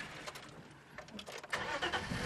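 A safari vehicle's engine rumbles and revs while reversing into a tree in the bush, with a rising surge near the end.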